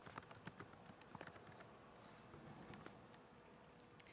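Fingers tap steadily on a computer keyboard while a Jewish genealogy search goes into a Google search box, making close, quiet clicks in quick irregular bursts with no voices.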